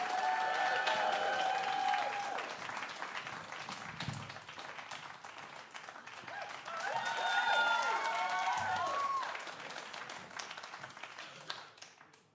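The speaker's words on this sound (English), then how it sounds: "Big cheer, everyone." A comedy club audience claps and cheers with sustained applause and scattered whoops, swelling again midway and fading out by the end.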